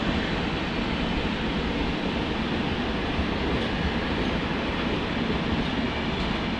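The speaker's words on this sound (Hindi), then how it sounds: "ये है 20972 Shalimar Udaipur city superfast weekly express." The Shalimar Udaipur City Superfast Weekly Express, running hours late, rushes past close by as a loud, dense, unbroken roar of rolling wagons and wheels, with no voices.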